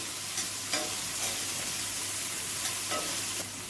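Onion and tomato sizzling in a pan while being sautéed for paneer bhurji, a steady frying hiss with a few soft stirring scrapes, close and moderately loud, no voices.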